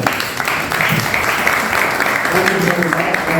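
Audience applause at a certificate ceremony, a steady dense wash of clapping that runs throughout, loud and close, with a voice speaking over it.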